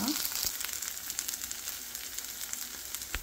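Grated, boiled and ground sweet pumpkin roasting in a pan for halwa, giving a steady, close sizzle and fry hiss that runs through the whole stretch with a few soft stirring scrapes and clicks.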